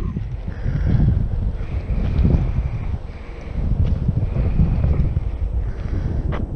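Strong wind buffets the microphone at an old operating airfield, a steady roar of gusts that swell and ease without any voices.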